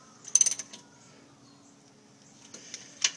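Quick metallic ratchet clicks from a socket wrench snugging 14 mm bolts on the rear brake of a 2008 Chrysler Sebring, a short burst near the start and another near the end, close and fairly quiet with a low hum between.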